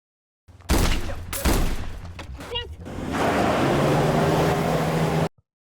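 Rough, unmixed gunfire effects from a film in post-production: several sharp, loud bursts clustered in the first few seconds, then a sustained roaring wash that holds to the end before cutting off.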